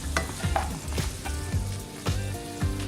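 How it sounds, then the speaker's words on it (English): Garlic and chilies fry in a pan for a savoury filling, a steady close sizzle with several stirring scrapes and clatters of a utensil against the pan spaced through it. "make sure we cook the garlic and the chilies as well. So let that cook for about a minute or 2."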